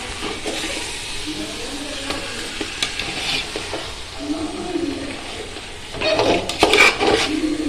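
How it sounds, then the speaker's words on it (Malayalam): Chicken for biryani, tossed into onions, sizzles and fries in a pan while a utensil stirs and scrapes it, with occasional clinks against the metal. "അങ്ങനെ ചിക്കൻ നല്ലതുപോലെ ഇളക്കി കൊടുക്കുകയാണ്"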